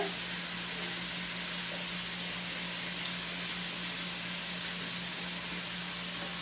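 Chicken pieces frying in a pot give off a soft, steady sizzle and hiss, faint and continuous with no talking.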